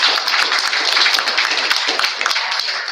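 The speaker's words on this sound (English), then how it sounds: "I just want to give them a round of applause" An audience at a community unity event claps steadily and fairly close for about three seconds, a dense, even patter that tapers slightly at the end.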